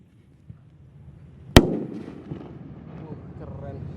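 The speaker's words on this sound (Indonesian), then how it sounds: "Spesial Ramadan ngabuburit nyumut mercon yang pertama ini" A Happy Power firecracker set off during Ramadan goes off with a single sharp, loud bang, followed by a rumbling tail, with people talking faintly around it.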